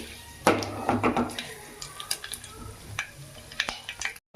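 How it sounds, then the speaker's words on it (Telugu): Cumin seeds frying in hot oil with mustard seeds while cooking cucumber dal, giving a close, steady sizzle with scattered crackles and pops and a few stirring scrapes, ending abruptly. "కొంత జీలకర్ర అవి బాగా వేపుకున్నాం ఎర్రగా వచ్చేదాకా వేపుకోవాలి"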